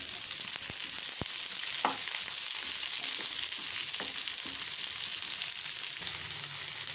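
Large-cut onions and green chillies fry in a pan with a soft, even sizzle, broken by a few sharp utensil clicks and taps.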